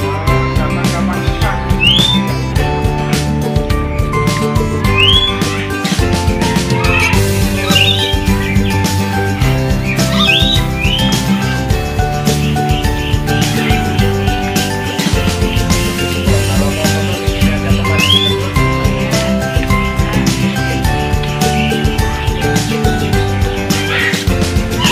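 Birds at Saloka Park chirp in short, repeated tweets that rise over loud, continuous background music.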